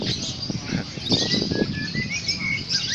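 Rapid, bright canary trills and chirps at a songbird singing contest run continuously over a low background murmur, fairly close and steady throughout.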